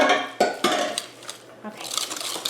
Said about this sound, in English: I busted one of mine, so I need to scrape it all out